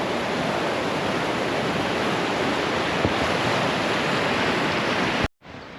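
A river in Sweden near Grövelsjön in the mountains rushes in a steady, loud broadband roar of flowing water that cuts off abruptly near the end.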